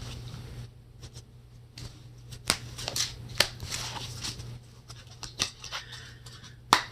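Tarot cards shuffled by hand, a soft papery riffling with scattered sharper snaps and slaps over a steady low hum, close and fairly quiet, with no talking.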